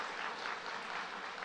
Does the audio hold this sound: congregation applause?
yes